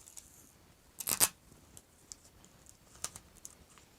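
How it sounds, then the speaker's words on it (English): Adhesive tape pulled and pressed over the seam of a paper turkey wind sock craft, heard as one sharp crackling rip followed by a few lighter ticks and rustles, close and alone. "And now we're going to tape it over."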